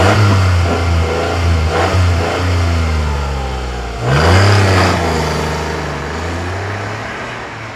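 A 2016 Mitsubishi Space Star 1.2 MIVEC ClearTec, 80 hp, heard from inside while driving, its engine droning and rising through revs, dipping at a gear change and climbing again, loud and steady with no talking.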